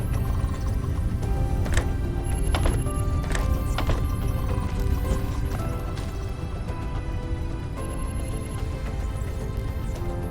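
A horse in a video game neighs and clip-clops with steady hoof beats over a busy game soundscape, with occasional sharp clicks and tones and no talking.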